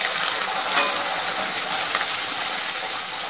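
Palak puri, a spinach luchi, fries in hot oil with a steady, bright, hissing sizzle close by that stays even throughout, with a faint tick or two.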